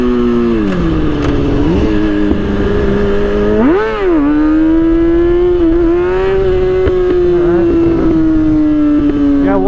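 A motorcycle engine warming up on a back road, a loud steady drone near the rider with a few quick revs that rise and fall before settling into an even, slightly higher hum.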